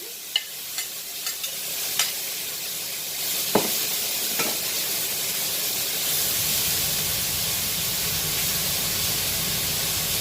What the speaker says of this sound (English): Alright, so now we're going to be putting it back to medium heat. Alright, and then adding the onions.